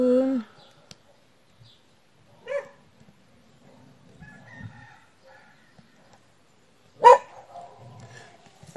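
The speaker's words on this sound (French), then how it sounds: "je viens aboyer juste devant la fenêtre." A dog gives a few short, sharp barks right in front of a window, spaced apart with quiet stretches and faint background noise between them. The loudest bark comes near the end.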